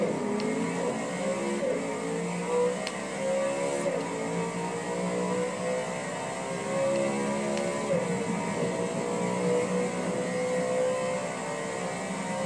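A modified BMW car accelerating hard, a continuous engine roar with rising harmonic sweeps as it climbs through the revs, steady and fairly loud throughout with no voices.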